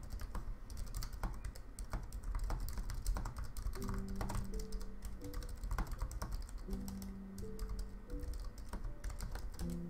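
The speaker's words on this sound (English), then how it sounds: "Wait there, I'm gonna type it in." Rapid clicking keystrokes on a computer keyboard run steadily and close-up for the whole stretch, with a faint tonal hum from a game or background audio underneath and no voice.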